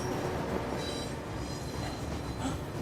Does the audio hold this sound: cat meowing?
no